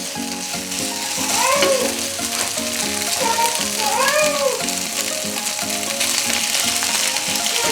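Pasta sauce meets browned beef in a hot pan, setting off a loud, continuous sizzle with steady bubbling crackle, while a faint cat-like cry or high squeal rises briefly in the background.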